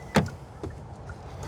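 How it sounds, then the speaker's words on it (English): A door on a 2026 Hyundai Palisade Hybrid SEL Premium SUV shuts with one solid, close thud, followed by a fainter knock and a quiet interior. "let's listen to the sound of the closing door"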